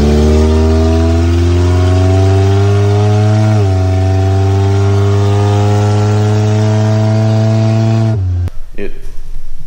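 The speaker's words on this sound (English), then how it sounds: "this is a 1/3 scale monster truck" A 1/3 scale mini monster truck engine revs loudly and steadily with strong harmonic tone, dipping briefly mid-way, then cutting off abruptly near the end into a short rattling clatter.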